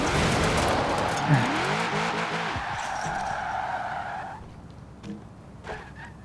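A supercharged 6.2 litre V8 car in Forza Horizon 4 revs and skids, with a loud engine roar and tire squeal early on that fades out after about four seconds, leaving faint thumps.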